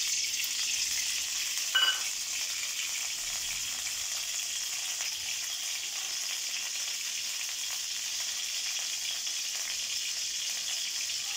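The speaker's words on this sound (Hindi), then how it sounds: "इसी में मैं कढ़ाई में तेल डाल रही हूँ।" Hot oil in a kadai sizzles with a steady, dense hiss throughout, with one brief louder spatter near the start; no one speaks.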